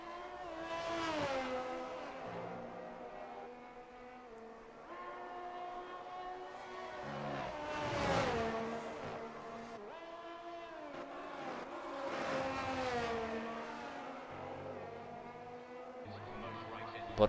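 Formula racing cars, a Ferrari and an Alfa Romeo among them, scream past in a video game race. Their engine notes rise and fall repeatedly through gear changes as the cars pass near and fade.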